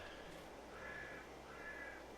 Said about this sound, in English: I like the Caribbean bird sounds and stuff.